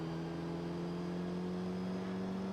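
Race car launching in the video game Gran Turismo 3 produces a steady, droning engine whine held at a constant pitch, faint and uninterrupted with no talk.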